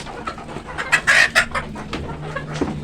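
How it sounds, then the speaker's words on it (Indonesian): Chickens eating feed cluck and squawk up close in short bursts, with a busy flock of fowl chattering over a low background hum. "bagaimana kelahapan dari ayam ini pada saat kita berikan makan"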